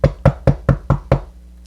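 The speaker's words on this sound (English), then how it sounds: "Hark, hark, someone knocks." Knocking on a door: six evenly spaced, solid raps in quick succession, close and loud, then the knocking stops and silence follows.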